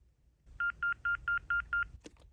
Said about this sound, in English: And then you'll hear the answering system error tone